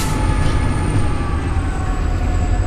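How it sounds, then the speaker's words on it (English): Norfolk Southern locomotives move through the DeButts rail yard in Chattanooga with a steady, loud, low rumble, a droning engine hum and a thin high-pitched whine held throughout. "Our next pair of locomotives there, they do have a train crew on board"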